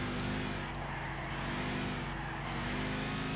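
A Lamborghini Murcielago LP670 supercar races in Gran Turismo 6 among other cars, its engine droning loud and continuous with shifting revs and a steady roar throughout, no talk over it.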